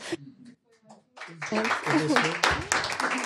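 An audience breaks into applause after a short spoken line, and dense clapping fills the rest of the moment at moderate loudness.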